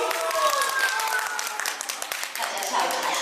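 An audience claps for a singer at an amateur Yue opera concert. The applause is fairly loud and continuous, mixed with voices and a sustained musical tone.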